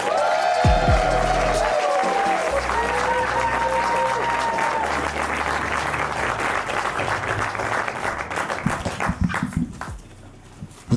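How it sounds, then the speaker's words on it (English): A theatre audience claps and cheers loudly for a comedian at the Empire Theatre, starting dense and dying down toward the end, with voices and an announcer heard over it. "Everybody please make it nice and loud for Miles Hodge."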